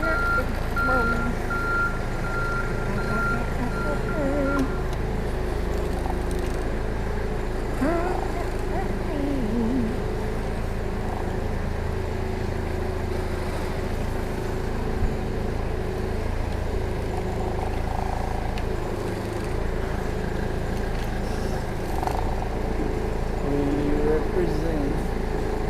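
A John Deere 455E track loader, just back running after an engine rebuild, rolls down a road with a steady low engine rumble and reversing-style beeps, with voices heard intermittently nearby.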